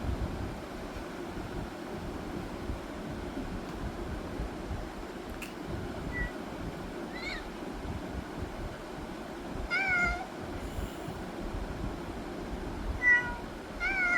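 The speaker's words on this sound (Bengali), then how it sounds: "এটা বিড়ালের সাউন্ডটা আমরা পেয়েছি।" A cat meow recording plays from a phone's Google search, giving several faint, spaced meows over a continuous rushing noise like wind or surf.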